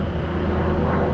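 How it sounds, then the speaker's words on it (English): A military jet passes overhead, a loud steady engine roar with a low rumble, heard outdoors. "It's a military plane jet."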